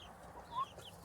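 A backyard flock of chickens clucking faintly, a short soft cluck rising briefly above a quiet background.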